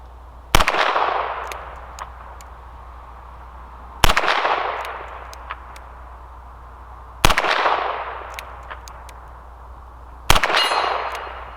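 A Ruger GP100 .22LR revolver fires four evenly spaced shots at a target outdoors, each a sharp loud crack trailing into a long echoing decay, with a couple of seconds between shots.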